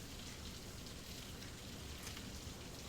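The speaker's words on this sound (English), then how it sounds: "with how hard it's raining" Heavy rain pours down in a steady, dense hiss of drops on surfaces. It is heard alone at a fairly low level, without talk.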